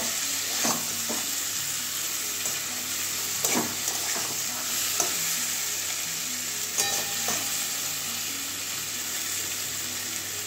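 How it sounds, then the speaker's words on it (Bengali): Pointed gourd sautés with spices in a pan for an egg and pointed gourd curry, a steady close sizzle under occasional scraping stirs, with no talking. "পটলটাও দিয়ে দিচ্ছি। মশলার সঙ্গে ভালো করে কষিয়ে নেব।"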